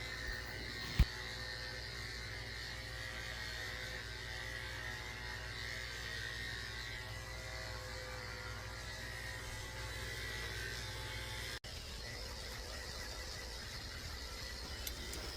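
Electric clippers fitted with a number 10 blade buzz steadily while trimming a Shih tzu's coat, a constant close hum with a brief click near the start and a short dropout near the end.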